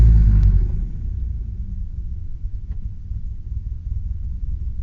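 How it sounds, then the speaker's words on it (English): A Cessna 172's piston engine is throttled back to idle on the ground. A loud roar drops off quickly to a steady, low, rumbling idle that continues on its own. "Pull the throttle back to idle."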